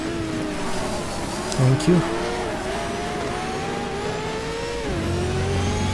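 Porsche race car engine in GTR2 at Tsukuba, a steady mid-pitched drone that shifts gear and pitch as the car drives, continuous and fairly loud, with a brief voice over it.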